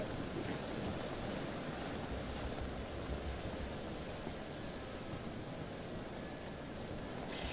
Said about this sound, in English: In front of the waterfall.